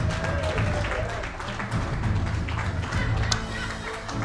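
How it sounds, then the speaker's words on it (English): Applause for ping pong contestants at a live clubhouse event, a brief patter of scattered claps beneath steady background crowd noise and talk. "How about a round of applause?"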